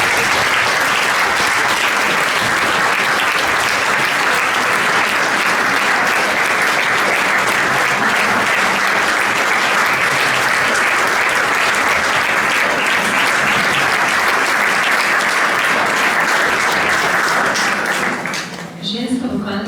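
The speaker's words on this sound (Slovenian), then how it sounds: "En aplavz, prosim." Sustained, dense applause from an audience at a singing evening welcoming a school women's vocal ensemble from Nova Gorica, steady and full for most of the stretch before tapering off at the end.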